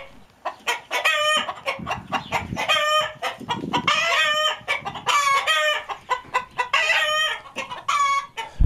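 Loud, close clucking of a hen, busy and rhythmic, with repeated throaty calls and a few crowing-like notes mixed in.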